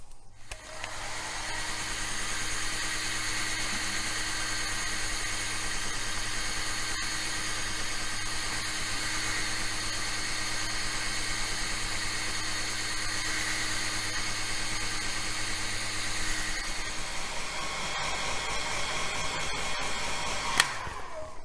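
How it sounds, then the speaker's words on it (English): A hair dryer drying paint on a model kit's inner frame blows with a steady, loud whirring drone that runs unbroken for a long stretch, then shifts slightly near the end. "So get the hairdryer back and more hair drying."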